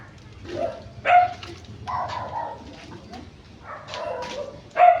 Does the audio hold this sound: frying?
no